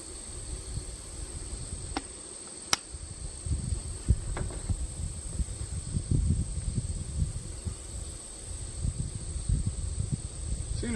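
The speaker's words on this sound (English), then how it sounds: "A lot of crickets out there." Crickets chirp in a field, a constant high thin trill holding steady throughout beneath soft low rustling and a few faint clicks, quiet and outdoors.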